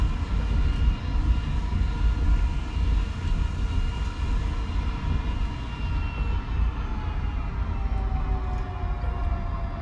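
Twin turbofan engines of an A-10 jet in the War Thunder simulator roar as a continuous loud, broad drone, with a faint rising whine threading through it.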